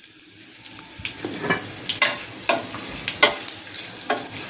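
Spices with asafoetida sizzle as they temper in hot oil for a cucumber and tamarind pickle, a close crackling fry broken by sharp clicks and scrapes of stirring, with no talking.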